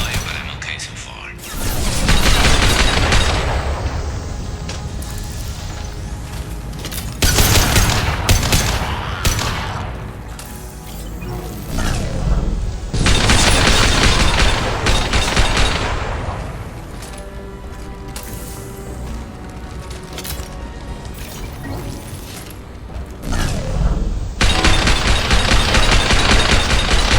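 Sustained gunfire in Mass Effect 2 Legendary Edition, with loud rapid volleys and heavy bursts nearly continuous throughout, broken by a few brief pauses, with speech faintly mixed into the combat.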